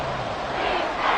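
A football stadium crowd on its feet roars in a dense, loud, continuous wash of cheering voices, briefly and alone.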